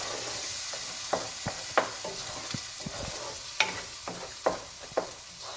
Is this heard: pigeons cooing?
no